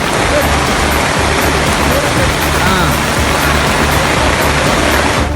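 Floodwater rushes through a national park in Kerala with a loud, dense, unbroken hiss and roar, like heavy rain. It stays steady throughout.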